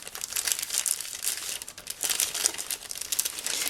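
Paper crinkling continuously as polymer clay is tipped out onto it, a dense close rustle that swells and eases without pause.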